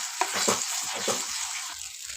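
Spiced potato sandwich filling fries in a pan with a soft sizzle and several brief scraping stirs of a spoon, close and moderately loud, with no voices.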